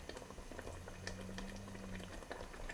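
Marinara tomato sauce bubbling steadily in a pot as it simmers and thickens, a continuous soft bubbling with scattered pops, heard close and alone.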